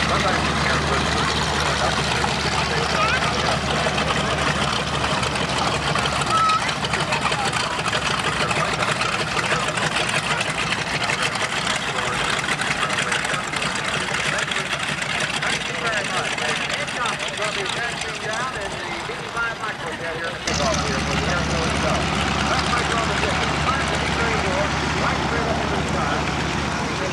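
At a 1984 airshow in Denton, a jet aircraft with vectored thrusters hovers as a continuous loud, roaring rush of engine noise with a slight shift partway through, heard over faint talk in the background.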